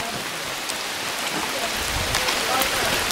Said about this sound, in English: it's still dumping rain